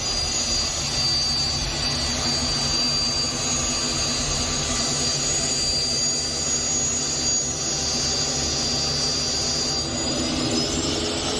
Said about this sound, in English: This jet was taxiing in South Africa when it almost hit a cheetah.